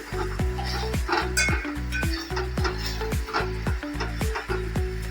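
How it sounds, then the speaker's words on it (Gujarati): A metal spoon stirs onions and tomatoes sautéing in oil in a pan, giving a rapid series of sharp clinks and scrapes over a soft sizzle, close up with no talking. "પેલા તેલમાં કાંદા ટમેટા નાખી ચમચાથી થોડાક હલાવવાના"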